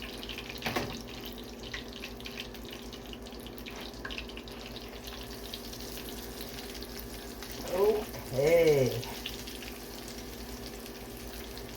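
Country fried steak in oil sizzles and crackles softly and steadily in a pan throughout, with a brief murmured word and a couple of faint clinks near the end.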